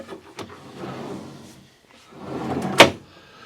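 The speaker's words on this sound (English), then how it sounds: "now let's stick this drawer box in" A drawer box slides into an adjustable pantry roll-out shelf with a few light knocks, a rolling scrape, then a sharp wooden thump as it seats closed.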